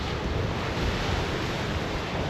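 Rough, churning sea surf on the Cyprus coast near Ayia Napa, a dense, steady roar of breaking water with wind buffeting the microphone, continuous and loud with no voices.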